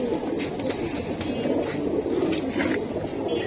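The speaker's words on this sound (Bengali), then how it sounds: "ডাব্বানি লাইনের কবুতর পেয়ারটা" Giribaz pigeons coo in low, repeated throaty calls close by, steady against a constant background hum, with no talking.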